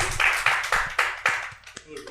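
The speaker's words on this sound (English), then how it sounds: "big round of applause from this sold-out audience for Kevin Pettijohn" A sold-out crowd at a live improv comedy show gives a burst of claps, loud and close, in uneven bursts that thin out toward the end, with voices mixed in.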